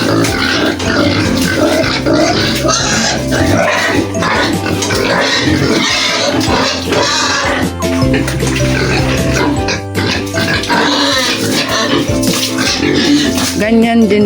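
A pet pig is washed with water: steady splashing and running water like a filling tub, with a pig's grunts and oinks and people talking over it throughout.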